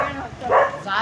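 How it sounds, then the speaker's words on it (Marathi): A pack of street dogs barks nearby, with sharp yapping bursts that rise and fall over a second while a person talks alongside. "इथं कुत्र्याची गँग आहे गाईज. इथं समोर कुत्रे आहेत"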